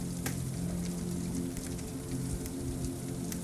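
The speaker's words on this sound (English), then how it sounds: "the soporific sounds of the rain" Steady rain falls on a surface, a continuous soft hiss with scattered drop ticks, constant and close throughout, with a low hum underneath and no talk.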